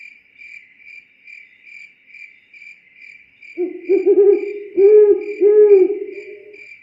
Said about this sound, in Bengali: মাঝরাতে প্যাঁচার বিদঘুটের ডাকে ঘুম ভেঙে গেল।